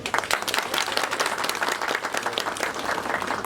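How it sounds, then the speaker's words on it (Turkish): Audience at a community association charity fair in Geyikli, Şalpazarı, Trabzon applauds the women volunteers: dense, steady clapping from a crowd, sustained and fairly loud throughout. "hepsini yürekten alkışlıyorum"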